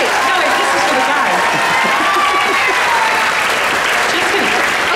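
An audience at a school awards ceremony applauds students honored on stage, steady dense clapping filling the room at close range throughout, with some crowd murmur mixed in.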